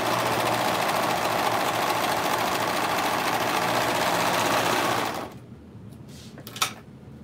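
A coverstitch sewing machine runs steadily and loudly up close, stitching binding onto sleeves, with a constant dense hum that stops abruptly around five seconds, followed by quiet and a faint knock.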